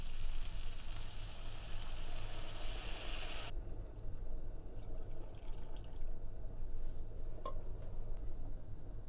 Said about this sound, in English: now we're just going to add the broth slowly